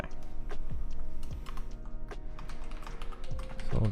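Quick bursts of keystrokes on a computer keyboard, close and clear, typed during a game development session.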